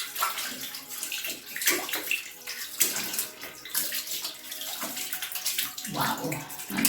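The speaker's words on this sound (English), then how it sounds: "while I wait for it to dry, let me wash my hand and clean" Tap water runs steadily while hands are washed beneath it, a continuous close splashing with small bursts and gurgles throughout, with no voices.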